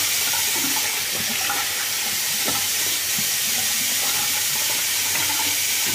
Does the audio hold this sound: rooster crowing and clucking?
no